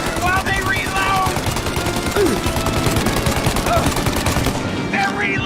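Rapid, loud bursts of automatic gunfire in Mafia: Definitive Edition, dense machine-gun volleys close by, with shouting voices mixed in.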